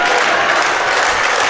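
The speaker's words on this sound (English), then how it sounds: "That's a nice ovation." Crowd at a men's college volleyball match between Durham and George Brown giving a loud, steady ovation, dense continuous applause from a packed gym.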